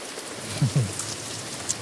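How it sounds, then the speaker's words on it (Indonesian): Steady rain falls as a close, continuous patter, with a couple of short low thuds partway through. "Oh masih hujan"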